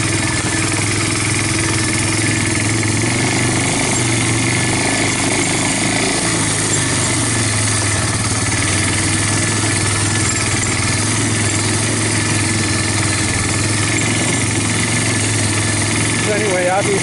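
A Yamaha Bear Tracker 250 ATV with a new intake and carburetor idling steadily up close, a constant mid-pitched engine drone with a slight dip in revs partway through, loud and unbroken.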